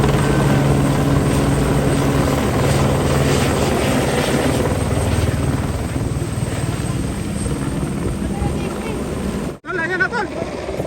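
A helicopter arrives and comes in to land at a crowded political event in the Philippines, its loud steady rotor roar and engine whine filling the scene before a brief dropout near the end.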